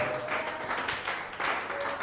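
A church congregation applauding, a dense, steady wash of many hands clapping together that holds at an even level for the whole stretch.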